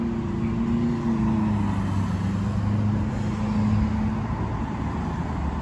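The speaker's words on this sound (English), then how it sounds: "That was a little bit of noise right there with that car." A car passes on a road in Ocala, Florida, with a steady engine and tire hum that swells slightly in the middle and holds at a moderate level throughout.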